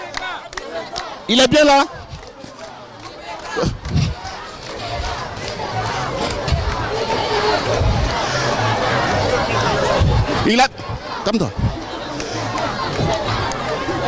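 A crowd at a Malian presidential election rally for IBK chants and cheers loudly in a dense, rhythmic roar, while a reporter speaks over it at close range.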